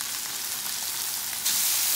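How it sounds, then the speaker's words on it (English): A pork chop sizzles on a Blackstone flat-top griddle, a dense, bright, hissing fry heard up close and steady, jumping a little louder near the end with no voices. "Hear that sizzle?"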